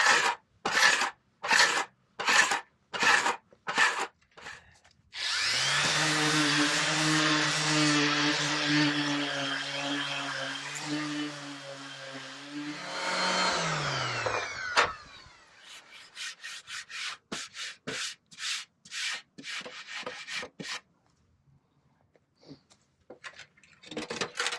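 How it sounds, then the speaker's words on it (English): Hand sanding of varnish on a wooden boat rudder for a Montgomery 17: quick rhythmic rasping strokes, then a long continuous whirring power-sander pass, then more short scratchy strokes tapering off. "that's just a rough sanding"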